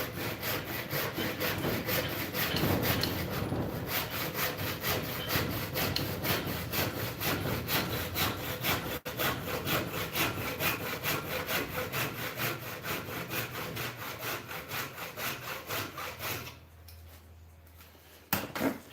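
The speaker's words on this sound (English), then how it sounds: "I'm going to cut a wedge from it" A chunk of zebra wood is hand-sawn to cut a wedge, with steady, fast back-and-forth strokes rasping close and loud for most of the clip before stopping near the end.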